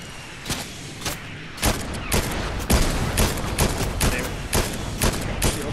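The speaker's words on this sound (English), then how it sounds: "Rockets coming" Rockets and explosions in Fortnite go off as a fast string of sharp, loud blasts, roughly two per second, steady and close throughout with no talking.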